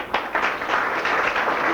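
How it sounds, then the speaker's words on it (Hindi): Students in a classroom clap together in a dense, steady burst of applause that runs the whole moment, fairly loud and close, with faint voices underneath. "सब लोग ताली बजाइए जरा।"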